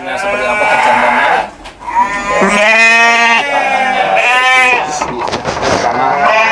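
Ewes bleat repeatedly in loud, close, wavering calls, several overlapping in a livestock pen, with a short gap before the bleating resumes.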